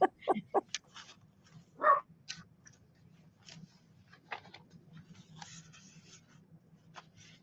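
A new puppy gives a few short, sharp yips, then a longer rising whimper, followed by faint rustling and scattered small noises close by, with no talking.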